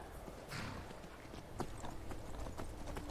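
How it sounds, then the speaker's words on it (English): Horse hooves clip-clopping in the Skyrim video game, a quick run of hoof beats with clear steady rhythm over soft game ambience, no talk. "Come back here, horse. I still need ya."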